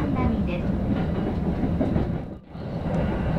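A Tokaido Line train bound for Numazu rumbles steadily at night, a loud continuous rolling roar with faint rail clatter, briefly dipping as if passing a gap before resuming, with a voice speaking over it.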